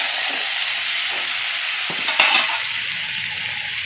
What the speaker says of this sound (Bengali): ওই মাছ ভাজার তেলেই আমি কেটে রাখা ছোট ছোট আলু দিয়ে দিচ্ছি।